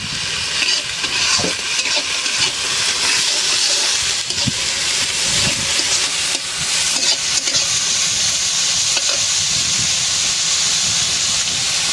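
Halved green chillies and spices frying in a hot pan, a loud, dense hissing sizzle with steamy crackle and occasional stirring scrapes, constant and close, no voices.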